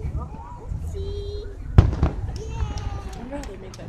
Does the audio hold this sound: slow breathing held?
no